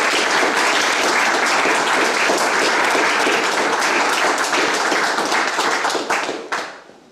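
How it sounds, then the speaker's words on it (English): Sustained applause from an audience at an Eagle Scout ceremony, dense steady clapping throughout that fades out in the final second. "Let's give our new Eagle Scout one more round of applause."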